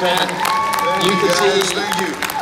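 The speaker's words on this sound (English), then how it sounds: "Please give a massive round of applause" Loud, steady applause from a convention panel crowd, with cheering voices mixed in throughout.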